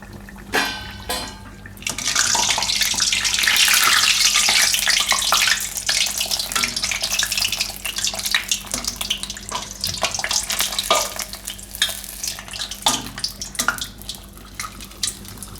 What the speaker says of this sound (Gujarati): પછી એકદમ ધીરેથી એને તેલમાં મૂકી દેવું